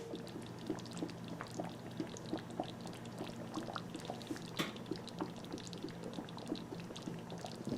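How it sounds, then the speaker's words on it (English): A pot roast with vegetables boils in a pot, making a faint, continuous bubbling and soft popping, close by and quiet, with no voices. "So now just let that boil some more till those vegetables are done."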